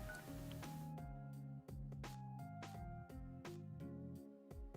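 A telephone number is dialed on a phone to call a competition winner, a quick run of distinct touch-tone beeps at an uneven rhythm, clear and close with no voices over it.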